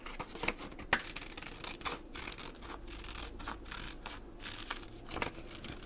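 Scissors snipping around a printed image on paper in a craft setting: a steady run of short, close crisp cuts and rustles of paper, moderately loud with no talk.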